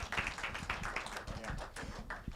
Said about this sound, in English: Big round of applause for these filmmakers.